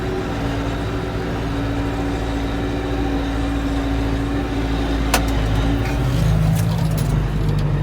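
A New Holland tractor pulls a cultivator across barley and onion fields in Girmeç village, Ankara. Its engine drones steadily and loudly up close throughout, swelling slightly toward the end, with no talking.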